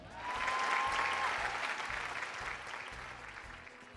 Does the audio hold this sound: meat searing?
no